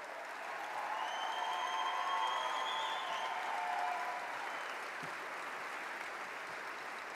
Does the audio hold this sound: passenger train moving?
no